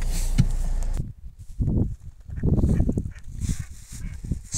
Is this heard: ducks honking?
yes